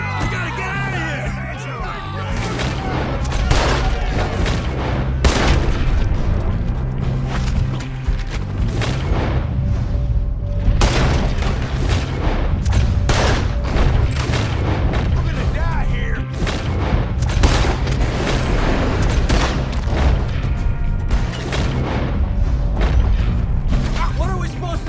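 A Red Dead Redemption 2 shootout fills the scene with dense, repeated gunshots and booming blasts, loud and close and nearly continuous, while shouting voices break through the fire.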